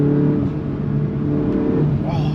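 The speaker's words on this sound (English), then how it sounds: "All you got to do is just poke the accelerator and this thing is ready to go." Modified turbocharged Audi S1 engine pulling steadily under acceleration, a loud, close, continuous drone with sustained tones and a slight change in pitch near the end.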